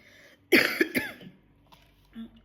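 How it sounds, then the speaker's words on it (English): A single harsh cough, close and abrupt, breaking into a couple of quick rasping bursts, followed by quiet and a faint murmur. "I'm struggling to get rid of this cough."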